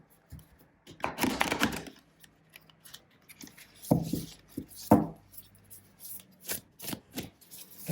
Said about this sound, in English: attempting my usual riffle and overhand shuffles